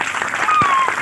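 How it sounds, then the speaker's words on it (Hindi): Dense applause from a crowd at a blanket distribution event for poor families, steady and loud throughout a short burst, with a faint voice underneath. "तालियों की आवाज"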